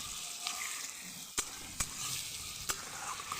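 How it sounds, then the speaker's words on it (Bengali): Onion, garlic and green chili fry in a pan with a soft, continuous sizzle, broken by three sharp metallic clinks of a spatula or spoon against the pan. "পেঁয়াজ রসুন কাঁচা লঙ্কা ভাজা ভাজা দেখো হয়ে গেছে, বেশ কিছুক্ষণ ভেজে নিয়েছি।"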